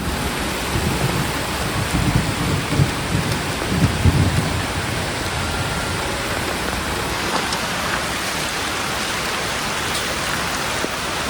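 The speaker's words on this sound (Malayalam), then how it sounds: "ഓ, ഇടിയും പെട്ടെന്ന്." Heavy rain pours in a dense, constant roar around a parked Tata SE 1613 BS4 timber lorry, with low rumbles of thunder rolling through the first few seconds.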